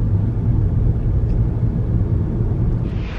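A white Ferrari LaFerrari Aperta rumbles in Monaco traffic: a loud, steady, deep engine drone that holds constant throughout with no talking over it.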